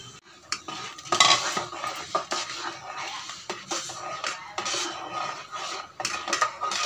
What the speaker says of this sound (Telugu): గోధుమ రవ్వ వేసిన తర్వాత ఇలా కలుపుకుంటారండి